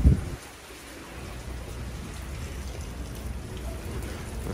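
Rain falls steadily on the roof of a covered connecting passage between the Nankai and subway stations at Nakamozu, a dense even hiss with a brief louder thump at the start and no voices.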